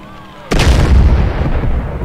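A heavy explosion in GTA with a ragdoll physics mod, a sudden loud boom that rolls on with a deep rumbling tail.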